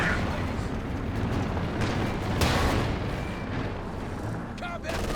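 Tank guns firing and shells exploding in a Company of Heroes 2 battle, a continuous loud rumble of booms and blasts, with a voice talking over the combat.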